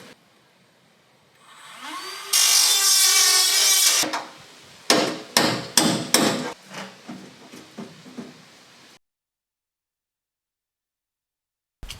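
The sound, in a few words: drilling and installation work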